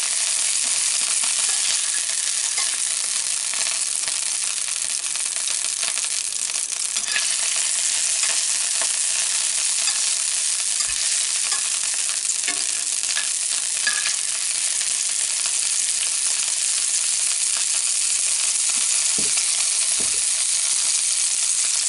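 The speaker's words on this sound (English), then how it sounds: "I think I'll put much more oil on because so it's a little bit deep frying." Meatballs fry in a generous layer of oil in a pan on an electric stove, giving a loud, continuous sizzle with occasional pops and no voices.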